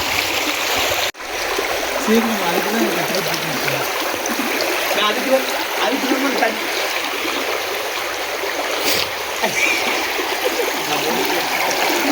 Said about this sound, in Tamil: இந்த பகுதியிலிருந்து தண்ணி வருகிறது இந்தாண்ட தண்ணி போகிறது